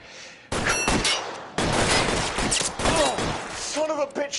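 Gunfire in the video game L.A. Noire: two loud, sharp bursts of shots kick off a dense, crackling exchange that rolls on for several seconds, with a voice speaking over the later part.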